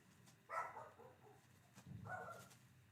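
Two faint dog barks, spaced about a second and a half apart, sounding distant against a quiet background.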